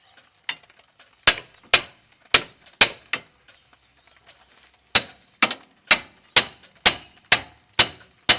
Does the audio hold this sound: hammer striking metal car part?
yes